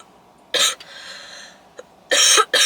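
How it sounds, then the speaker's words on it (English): Several sharp coughs from a single person, nearby and loud: one burst early, then two rapid coughs near the end, with quieter breathy throat noise in between. "as I said, I don't have a cough anymore, but clearly I do."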